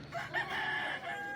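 A rooster crows close by on a rural Filipino homestead where native chickens are kept, one drawn-out call over a faint background of other fowl.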